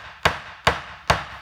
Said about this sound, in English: Now we're going to put in the cheek braces, and we hammer like this